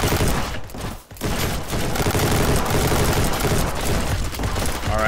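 Dense automatic gunfire in the video game Ancient Warfare 3 during a beach assault: loud, rapid volleys that barely pause, with one brief dip before the firing resumes.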